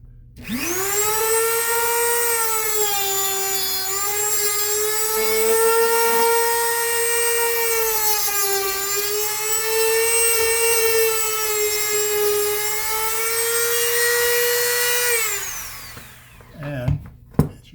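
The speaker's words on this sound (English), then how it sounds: "it's a little router basically" A small router cuts a flat ledge around the edge of a fiddle, giving a loud, steady high-pitched whine that holds for about fifteen seconds before winding down, followed by a few brief knocks.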